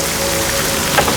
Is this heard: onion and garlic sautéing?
no